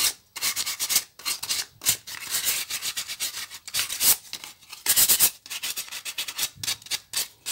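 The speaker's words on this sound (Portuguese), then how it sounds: "Lixar tudo aqui, as voltinhas aqui, ó. Os cantinhos, tudo aqui, ó. Vou lixar toda ela." A wooden card box is sanded by hand, with rough, scratchy strokes over its curves and corners. The strokes come in a quick, uneven rhythm with brief pauses, close and fairly loud.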